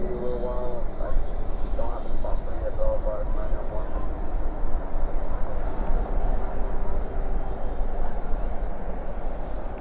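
A Boeing 737-700 lands with spoilers up and thrust reversers deployed, giving a low, steady jet rumble at a distance. People talk over it throughout.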